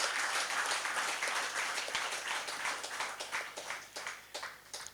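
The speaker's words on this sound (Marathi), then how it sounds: "एक जोरदार मला वाटतं टाळ्यांचा कडकडाट होणं गरजेचं आहे" Enthusiastic audience applause at a Marathi book event, a crowd clapping together in a thick wash that gradually thins into separate fading claps.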